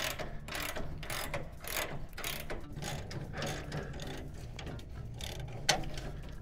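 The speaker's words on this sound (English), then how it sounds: "just got my bed ratchet out" Rapid ratcheting clicks from a wrench working the gas tank strap bolt under a 1985 Chevy S10, close and busy, in quick repeated bursts of clicking and metal handling with no talking.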